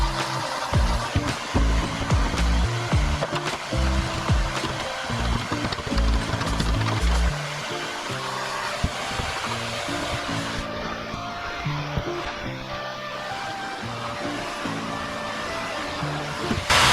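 A heat gun blows steadily on the interior of a 1981 Monte Carlo, a loud continuous whooshing roar with a low droning hum that shifts and eases partway through.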